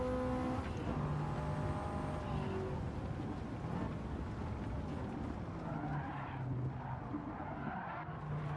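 Bugatti Veyron racing car in a racing video game, its engine roaring steadily and loudly throughout amid dense game audio, with tire skidding and squeal over the sustained drone.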